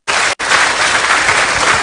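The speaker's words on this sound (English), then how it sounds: "Another round of applause." Applause fills an ambassadors' conference hall, a loud continuous wash of clapping that breaks off for an instant near the start and then carries on steadily.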